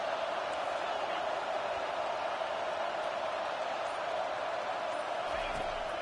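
An American football stadium crowd at a college game roars as one steady, loud wash of cheering and noise, unbroken from start to finish.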